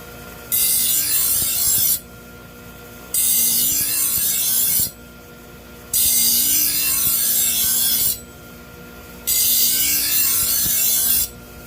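A steel kitchen knife is drawn across a sharpener in four long, even strokes, each a loud, close, gritty rasping scrape separated by short pauses.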